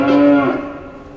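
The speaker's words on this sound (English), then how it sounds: "you can hear a bit of that reverb on the cow at the end when the mooing happens" A cow's moo from a radio commercial for a tack shop is heard once. It is short, close and loud, with a reverb tail trailing off afterward and no talk over it.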